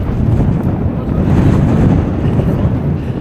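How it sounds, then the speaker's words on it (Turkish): Strong mountain wind buffets the microphone in a continuous, heavy roar with no other sounds standing out. "bugün ciddi bir rüzgar var"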